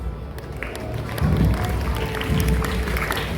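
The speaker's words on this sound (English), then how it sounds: "Let's have a huge round of applause for all our participants." Audience applause and some cheering for the participants at the close of a school English quiz held for a Kamarajar birthday education event, a steady broadband clatter of many hands mixed with crowd noise and voices.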